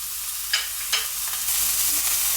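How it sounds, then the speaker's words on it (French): A ground beef patty fries in sunflower oil in a pan, giving a loud, close, steady sizzle broken by a couple of brief crackles. "je viens donc y déposer mon steak haché"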